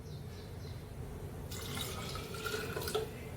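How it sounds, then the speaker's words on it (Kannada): Water pours from a bottle into dosa batter in a Mangalorean kitchen, a soft, steady liquid stream that grows fuller and louder partway through, with dripping and gurgling near the end. "ಈ ಬಾಟ್ಲು ನೀರು ಪಾಡ್ದಿಪ್ಪೇನು"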